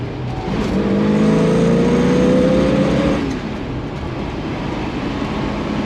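A 1965 Ford Mustang GT K-code V8 pulls hard on throttle, a loud rising engine roar with climbing tones that peaks and then fades into a steadier, quieter rumble.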